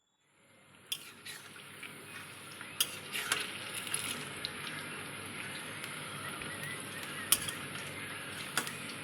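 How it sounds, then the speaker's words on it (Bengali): Onion fritters (peyaji) frying in a pan of hot oil, a steady dense sizzle with occasional sharp pops and light clinks of a utensil, close and continuous throughout. "আর ওপর দিয়ে লাল লাল এবার পেঁয়াজিগুলো ভেজে নেবো"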